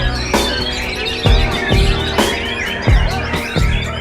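A caged murai batu, or white-rumped shama, sings loudly and close with varied, rapid whistles and chirps, broken by a few sharp thumps or knocks.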